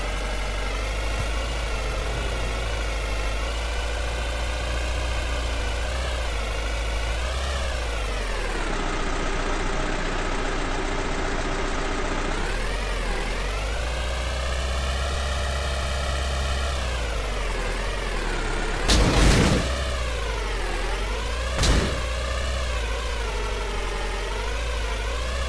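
Lada Zhiguli car engine from the Motor Depot driving game, holding a steady droning hum that rises and falls in pitch as the car speeds up and slows, with a couple of brief louder bumps near the end and no talking.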